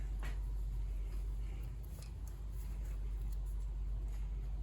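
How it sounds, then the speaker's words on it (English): Cars pass outside a garage workshop, a faint, steady low traffic rumble with a slight swell in the middle, heard from indoors with no talking. "Now you might be hearing some cars."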